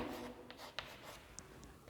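Chalk or marker writing a chemical equation on a classroom board, faint scratchy strokes and light taps in short separate marks, quiet and close.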